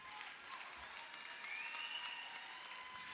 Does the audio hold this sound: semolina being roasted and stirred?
no